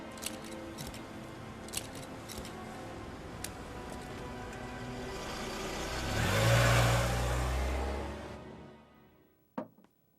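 A car starts off and accelerates, its engine swelling to a peak and then fading away, with a few light clicks before and a sharp knock at the end, heard without voices.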